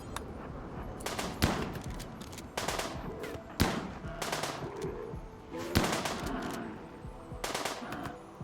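Rapid bursts of automatic gunfire rattle out in the video game RimWorld as colonists shoot down a Muffalo, several sharp volleys separated by brief pauses, loud and close with no voices.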